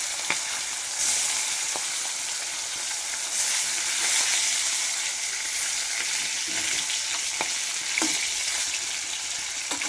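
Fish sizzles steadily in hot oil in a pan, a close, dense hiss with occasional pops and stirring clicks, no voices.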